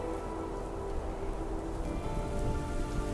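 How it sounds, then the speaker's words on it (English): Heavy rain pours down steadily in Burgundy, Switzerland, after a thunderstorm with lightning over a lake, a dense, continuous hiss of drops drumming on surfaces, close and constant throughout with no voices. "the rain was coming down in steroids"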